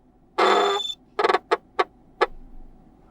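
A Garmin Quatix 7 watch sounds its Find My Device alert: one long buzzing tone, then a quick triple pulse and two more short chirps, close and clear with no talking.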